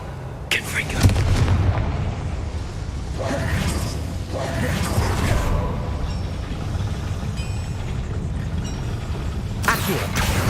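Blasting Confringo spell bursts in Hogwarts Legacy, heard as a few loud booming impacts spread over a steady rumbling game ambience, with a character voice speaking briefly between the blasts.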